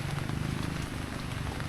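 Heavy rain pours down in a dense, steady hiss with fine pattering across a broad range, close and continuous for the whole short stretch.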